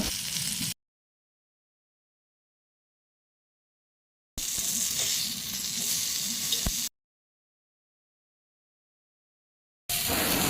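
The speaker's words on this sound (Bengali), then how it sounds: "তেলের মধ্যে অল্প অল্প করে ভালো করে ভেজে নেব" Green jackfruit kathi kababs frying in white oil, a bright crackling sizzle heard in three separate bursts with dead silence between them.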